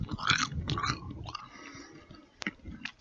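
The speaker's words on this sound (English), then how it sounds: "Here's the sound of the crunch from the baked zucchini chips." Close, crisp crunching and chewing of baked zucchini chips, several bites in quick succession with a few sharp snaps near the end.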